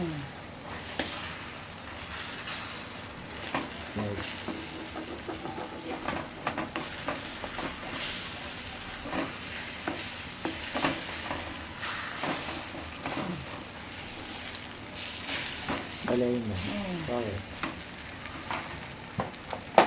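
Egg fried rice ingredients fry in a hot pan in fast-food style, a continuous sizzle broken by repeated scraping stirs and clanks, close and busy, with brief faint talk.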